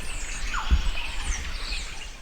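Birdsong along a forest walking trail, with a few faint chirps and calls over a steady outdoor background hiss and low rumble, fairly distant and soft throughout.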